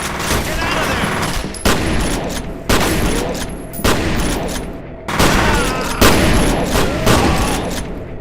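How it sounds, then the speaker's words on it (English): Shotgun blasts in the F.E.A.R. video game, about five loud sharp bursts in quick succession, each with a short rattling tail, close and dominant with brief gaps between shots. "This shotgun goes crazy."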